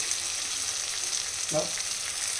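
Ginger garlic paste fries in hot oil for a bhetki fish curry, giving a steady close sizzle with one brief scraping stir midway.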